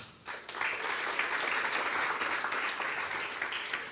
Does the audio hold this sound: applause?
yes